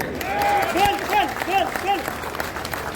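Audience applause at an annual general body meeting, a sustained wash of clapping that swells and lingers for several seconds while a voice speaks over it.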